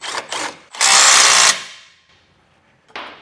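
A power tool tightens a bolt while a Demco tabless base plate is fitted to a 2024 Ram 1500. It gives two short whirring bursts, then a longer loud run of about three quarters of a second, then a brief final burst, close up and without talk.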